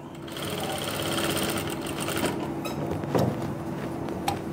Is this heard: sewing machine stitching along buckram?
yes